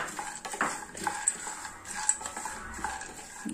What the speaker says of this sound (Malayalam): അത് അതേ പാനിലേക്ക് തന്നെ ഇട്ടിട്ട് ഒന്ന് ഫ്രൈ ചെയ്തിട്ട് പെട്ടെന്ന് തന്നെ നമുക്കത് കോരിയെടുക്കാം